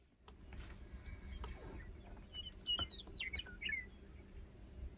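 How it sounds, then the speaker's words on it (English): Birds chirp at night in a cool outdoor setting with a few faint, scattered high chirps and short trills over a low background rumble, somewhat distant, with no talking. "Birds are chirping."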